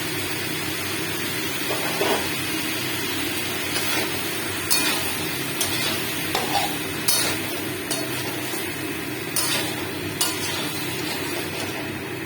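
Stirring poppy seed paste into a cauliflower curry in a pan, with a steady sizzle underneath and repeated sharp clinks of a spoon against the pan at irregular intervals.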